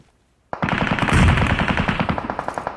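Sudden automatic gunfire bursts out in PUBG Mobile after a quiet moment, a loud rapid string of close shots in an even rhythm that lasts a couple of seconds, with no talking.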